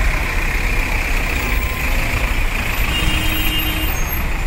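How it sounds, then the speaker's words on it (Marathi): Heavy trucks idle in a jammed road, giving a loud, unbroken low diesel rumble with a steady hum above it and a faint tone entering toward the end. "काही ट्रकवाले फुकट गाडी रस्त्यात लावून ठेवले आणि ट्रॉफिक जाम करत आहेत"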